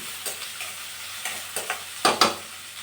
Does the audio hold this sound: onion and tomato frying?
yes